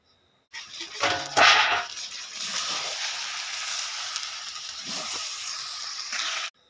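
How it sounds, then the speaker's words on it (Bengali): Chicken and potatoes sizzling in a pan while being stirred, a broad hiss that starts abruptly with a burst of scraping, holds steady for several seconds, then cuts off. "মাংসটাকে একটা ঢাকন দিয়ে বারবার ঢাকতে হবে আর নাড়তে হবে"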